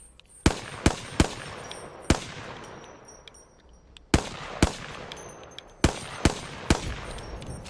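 Single sharp gunshots in the Apex Legends practice range come in small clusters of two or three, each crack loud and clear and trailing off into a quiet gap before the next.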